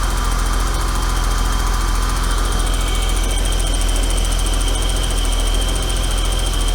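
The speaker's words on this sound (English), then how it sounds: "The injectors are a bit" A BMW E32 735iL engine idles steadily up close, with a constant low rumble and a fast, even ticking clatter from loud fuel injectors layered over it, loud and uninterrupted throughout.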